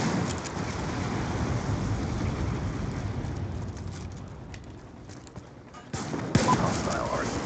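A Lightning Strike airstrike lands in the video game Black Ops 2. A dense, rolling barrage of crackling blasts and rumble fills the whole stretch, then eases off before a fresh burst at the end.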